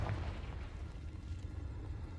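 Fire spell explosion from the Hogwarts Legacy video game, a soft, low rumbling burst that lingers as a muffled roar for a couple of seconds, fairly faint and with no voices.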